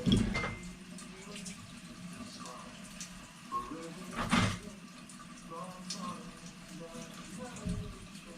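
Running tap water splashes steadily over prawn heads being rinsed in a kitchen sink, with brief louder gushes and splashes, close to the mic, with no talk over it.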